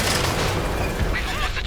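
In a video game, a T58 tank comes under fire on the battlefield, with dense booming gunfire and blasts rolling continuously beneath a voice.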